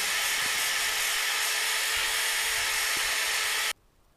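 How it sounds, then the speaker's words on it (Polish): A drill with a sanding wheel grinds rusty metal bolts on a car steadily with a harsh, high hiss, then cuts off abruptly near the end, leaving quiet. "Więcej szlifowania tym kółkiem z papieru ściernego na wiertarce."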